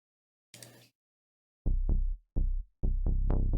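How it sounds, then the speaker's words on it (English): Saw pluck synth notes with sidechain pumping, an octave up with an LFO accent, struck in a bright repeating pattern of short plucks after a brief noisy burst, loud and alone. "Saw pluck"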